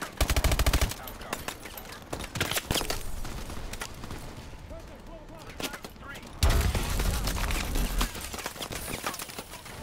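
Gunfire in the Call of Duty: Advanced Warfare campaign mission Throttle, with loud bursts of automatic fire and scattered shots that fade and then return, plus faint clatter between them.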